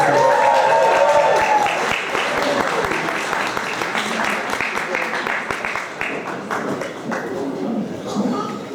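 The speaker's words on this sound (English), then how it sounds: "round of applause for Oliver?" Wedding guests clap together for the groom, Oliver, in a steady, dense round of applause that fills the room from start to finish, with voices mixed in underneath.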